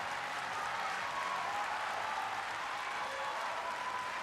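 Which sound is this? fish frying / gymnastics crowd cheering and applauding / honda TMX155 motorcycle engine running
gymnastics crowd cheering and applauding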